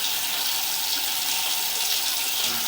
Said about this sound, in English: we're going to run some water now and let it flow down to the camera so that we have a little bit better view of this